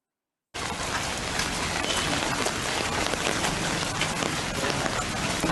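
Heavy downpour during a door-to-door pension distribution in a rural area, a dense, continuous hiss of rain that starts suddenly and holds steady throughout, with no talk heard.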